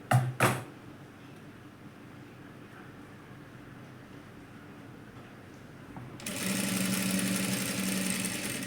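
An electric sewing machine runs steadily while stitching a four-tuck blouse, its quiet whirring hum rising louder near the end after two sharp knocks at the start.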